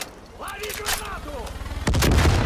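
A grenade explosion in the game Far Cry 5: a sudden loud broadband blast near the end, after shouting voices and a clatter of gunfire.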